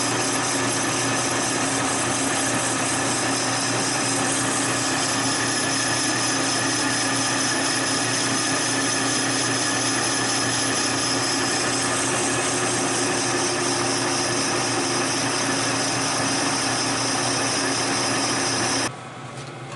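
A metal lathe turns a bearing retainer for a replica antique motorcycle engine, giving a loud, steady machining whir with a high whine that runs unbroken for most of the stretch, then drops off abruptly near the end.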